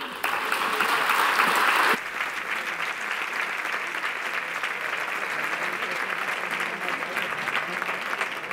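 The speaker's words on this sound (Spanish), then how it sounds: "un aplauso enorme para las Carlota." An audience at a charity gala breaks into loud applause, dense clapping that peaks in the opening seconds, then settles into a steady, slightly softer ovation that carries on to the end.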